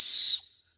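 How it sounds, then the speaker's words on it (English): A small whistle built into a survival kit spork gives a single loud, shrill, piercing blast that cuts off sharply after about a third of a second and rings out briefly. "It's also a whistle."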